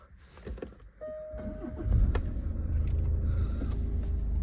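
A Jaguar XF 2.2d R-Sport automatic diesel saloon starts up: a brief whirring crank and a rising catch, then a steady low diesel idle rumble that carries on close by.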